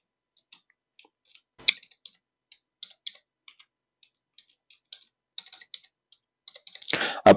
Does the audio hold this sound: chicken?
no